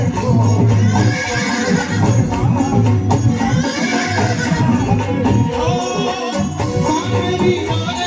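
A horse neighs loudly and repeatedly, up close, in a dense, continuous whinnying with faint hoof clip-clop beneath.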